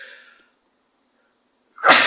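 A single sharp, loud sneeze bursts out at the very end after a faint breath and near silence.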